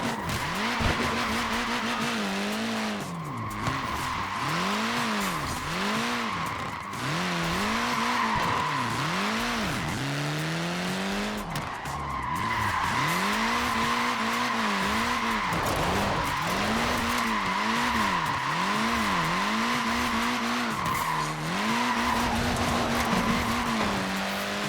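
A Mini with tiny tyres in Forza Horizon 4 skids and squeals through repeated drifting slides, its engine revving underneath in rising and falling arcs, loud and continuous.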